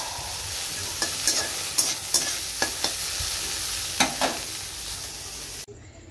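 Okra frying in a pan makes a continuous sizzle, broken by a series of sharp, close scrapes and clicks as it is stirred.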